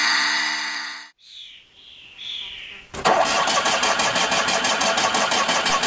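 A Fiat 126p fitted with a Fiat Uno engine starts up in a driving simulator: after some talk and quiet, the engine catches abruptly and settles into a steady, loud idle.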